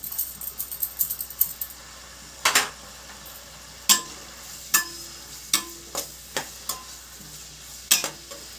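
Onions sizzle in hot oil in a pan while cooking a boti curry, with a steady fry hiss broken by sharp, regular clinks and scrapes of a spoon against the pan.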